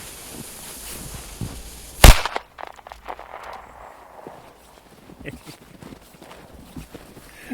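A single sharp bang from a Funke China Böller firecracker, followed by scattered crackles, footsteps and faint outdoor noise.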